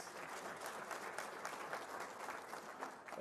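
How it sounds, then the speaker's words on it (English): An audience at an education results ceremony applauds steadily, a dense, even wash of clapping from many hands lasting throughout without a break. "Can we give ourselves a round of applause?"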